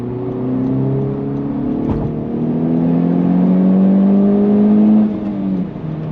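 A 320 hp Honda Civic Type R engine drones steadily and loud, its pitch shifting as it revs, with a whooshing rush of turbo air through the exhaust.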